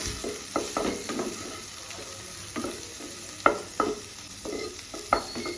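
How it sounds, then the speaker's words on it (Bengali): A spatula stirs egg and mixed vegetables in a hot pan, giving repeated scraping strokes in an uneven rhythm over a soft, steady sizzle, close by and with no voices. "এবার ডিম আর সবজিগুলোকে খুন্তি দিয়ে এইভাবে ভালো করে মিক্সড করে নেবো"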